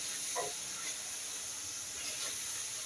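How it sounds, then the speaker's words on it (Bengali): Spice paste frying in oil for a flat bean dish: a soft, steady sizzle and hiss with a few faint bubbling pops, and no voices. "মশলার তেল উপরে চলে এসেছে, আমার মশলাটা প্রায় কষানো হয়ে গেছে।"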